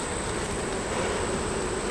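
Honeybees at the front entrance of a decently populated hive after an inspection make a steady, dense buzzing drone that holds at an even level throughout, close and continuous with no voices.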